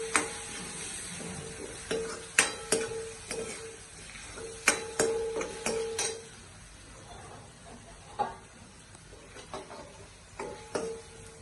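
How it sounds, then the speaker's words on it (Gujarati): A spoon stirs turmeric, coriander-cumin powder and chili powder into a pan of Gujarati peanut bhajiya curry, giving irregular metallic clinks and taps against the pan over a faint background. "આ બધાને મિક્સ કરીશું."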